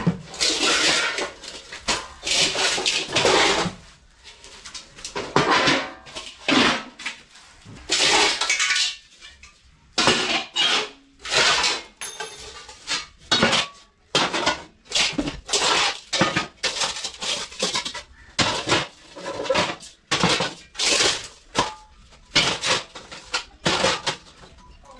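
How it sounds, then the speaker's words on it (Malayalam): Clay cooking pots being lifted and stacked one after another, with repeated hollow knocks and clatters in irregular bursts, fairly close and loud, no talking. "അടുത്ത് നമുക്ക് ചട്ടി എടുത്ത് വയ്ക്കാം"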